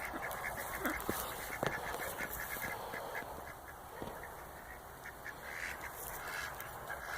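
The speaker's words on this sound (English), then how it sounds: "This is the old Muscovy, who walks around hissing all the time." An old Muscovy duck in a farm pen hisses and quacks in short bursts over a steady, breathy outdoor background, with no one talking.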